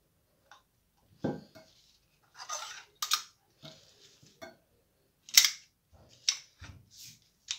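Boiled potatoes are mashed for a potato gratin in scattered, soft squishing and scraping strokes with quiet gaps, close up, interspersed with a few sharper clinks of the utensil against the dish.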